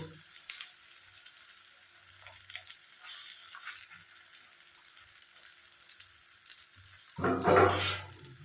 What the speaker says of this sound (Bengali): এভাবে পাতলা পাতলা করে একটা একটা করে ভেজে তুলব